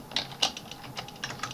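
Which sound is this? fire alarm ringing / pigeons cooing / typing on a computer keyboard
typing on a computer keyboard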